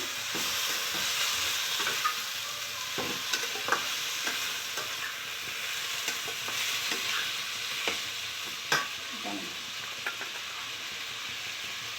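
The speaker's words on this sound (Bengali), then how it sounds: "এবারে আমি নেড়ে নিচ্ছি" Ash gourd shukto fries and gets stirred in a pan, a continuous bright sizzle with soft scraping and occasional clacks of the spoon against the pan, no talking.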